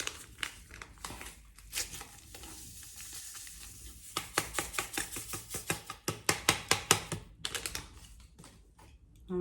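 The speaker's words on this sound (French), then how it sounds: "On va le mélanger." Beignet dough ingredients with yeast being mixed by hand in a bowl, giving quiet irregular crinkly taps and scraping stirs that grow into a quicker rhythmic patter, close and soft.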